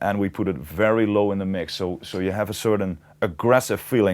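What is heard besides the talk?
No distinct noise like a dog, phone or traffic.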